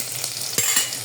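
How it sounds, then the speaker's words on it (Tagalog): Garlic and onion sauté in a hot pan for sinigang sa miso, a close, steady sizzle and hiss with a couple of soft stirring scrapes and no talk. "First, let's saute garlic. And then onion."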